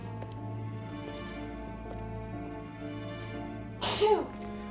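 A single short sneeze from a woman nearby, heard late and abrupt over a quiet background of video game music and ambience.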